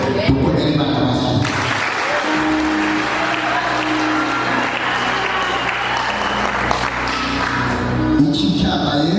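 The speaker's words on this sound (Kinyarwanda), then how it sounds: "Dukorere Imana amashyi" Loud continuous applause from a church congregation giving praise to God, thick steady clapping that holds for several seconds before fading, with voices mixed in.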